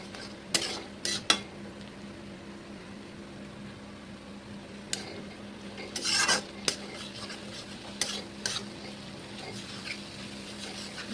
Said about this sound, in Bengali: এবার আমি ডিমটাকে মাঝখানে ভালো করে নাড়িয়ে নেব